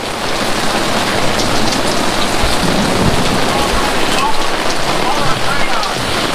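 Heavy rain pours down under an awning during a thunderstorm at a hot springs resort, a loud, dense, continuous hiss with no pauses, close to the listener.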